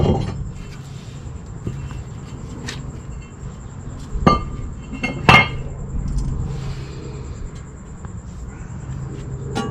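Brake rotor being worked off the front hub of a 2018 Toyota Corolla LE, giving a few sharp metallic clanks and knocks near four and five seconds over a quiet garage background.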